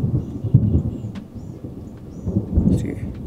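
Deep thunder rumbles in low rolling surges with a couple of stronger swells, heard outdoors before a storm near a truck camper, with faint light rain or rustling over the top and no talk.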